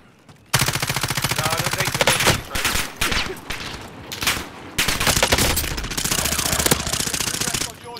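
Rapid automatic pistol fire in a shooter video game, loud bursts running almost continuously with brief gaps, voices faint beneath.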